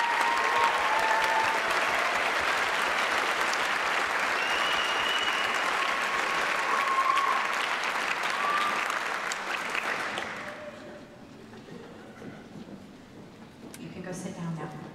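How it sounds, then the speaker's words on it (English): Sustained applause from a school concert audience honors band camp scholarship winners, a dense, even roar of clapping that fades out after about ten seconds, leaving quieter room noise with faint voices. "Round of applause for all of our band camp scholarship winners."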